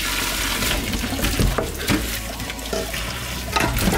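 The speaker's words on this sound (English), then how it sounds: "You want to wash all this nastiness away and have a clean pot." Water runs steadily from a tap into a large 10-litre soup pot as it is rinsed clean while making Vietnamese beef pho, a continuous close splashing rush with a few louder sloshes, no voices.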